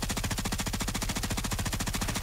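Rapid automatic gunfire in Warzone on Rebirth Island, a loud, close, continuous burst of evenly spaced shots with no talking over it.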